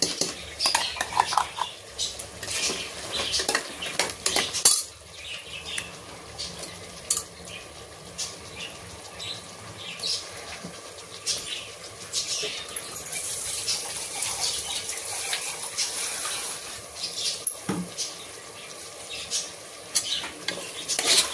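Fine ground masala paste frying in a mixed curry, sizzling steadily while a utensil stirs and scrapes against the pot with frequent clinks, close and busy throughout.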